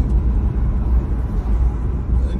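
Steady low road rumble from inside a car driving slowly through Atlanta school zones, a continuous droning hum with no talking.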